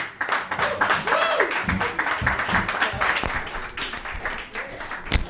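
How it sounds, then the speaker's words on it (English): A crowd applauds a returning guest speaker, steady clapping throughout with voices and some talk mixed in over it. "everyone a round of applause for Reb Simon."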